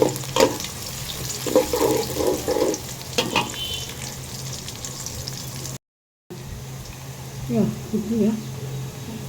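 Dried red chilies and bay leaves frying in hot oil, a steady sizzle with crackling bursts running through most of the clip, broken by a brief silent gap; background voices are faintly present.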